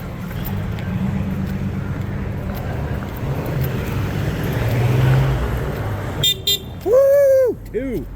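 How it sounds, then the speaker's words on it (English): Car horn honking on a Seattle street, a steady bed of traffic rumble first, then a loud close honk near the end that sounds with a wavering pitch before a second short blast. "there's a honk"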